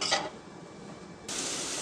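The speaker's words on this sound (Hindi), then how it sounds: "अब हम इसे अच्छे से फ्राई कर लेंगे।" Green chili paste frying and being stirred in a soup pot, a soft steady sizzle with a brief scrape of the spoon near the start, the hiss growing brighter toward the end.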